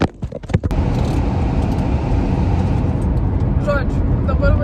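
A car driving along a road on the way to work, heard from inside as a steady, loud engine and road hum that runs throughout, with a few sharp clicks at the start and faint chirps near the end.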